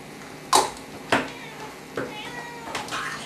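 A cat meows four times, close and fairly clear, each cry short and spaced about half a second to a second apart, with no voices over it.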